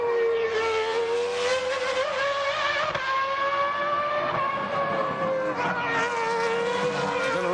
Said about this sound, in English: a very slippery Arrow is driven superbly by the young Spanish driver Pedro De La Rosa